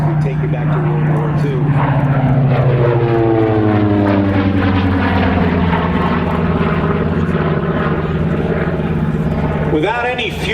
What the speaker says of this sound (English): It's good to hear these round engines